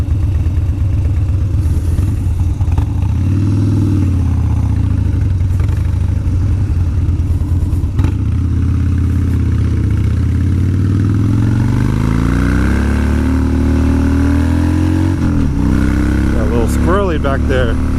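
A 2017 Harley-Davidson Dyna Street Bob rumbles loudly and steadily while riding, its engine note rising as it accelerates near the end.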